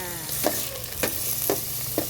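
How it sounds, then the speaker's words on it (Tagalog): Mussels (tahong) sautéing with ginger in a pan, a steady close sizzle broken by four evenly spaced scrapes of stirring, with no talk. "Ayan na po yung mga tahong, ginisa na."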